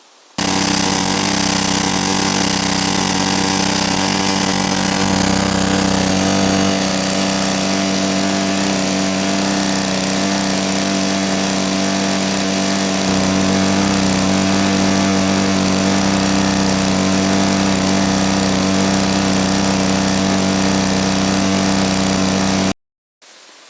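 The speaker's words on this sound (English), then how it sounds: "let's try a petrol-driven pump. So I got that working." A petrol-driven water pump engine runs outdoors at an off-grid homestead in Latvia, giving a loud, steady, close drone with a constant hum that cuts off abruptly near the end, with no talk.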